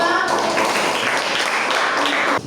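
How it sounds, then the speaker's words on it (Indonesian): Students in a religion and character-education class applaud a group after its presentation, giving dense, steady clapping that fills the room and stops abruptly near the end, with a voice faintly mixed in. "Ya, tepuk tangan untuk kelompok 2."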